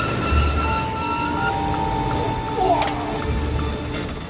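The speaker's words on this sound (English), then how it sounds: "At the next station, Itami, the train overshoots the platform by over 3 car lengths." A passenger train pulls into Itami station in Japan, with a steady loud rumble of wheels and a faint high squeal, plus a brief metallic screech near the end as it rolls along the platform.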